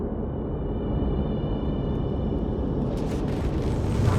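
Explosions in the space strategy game Homeworld 3 make a dense, steady rumbling roar. A brighter hiss builds toward the end.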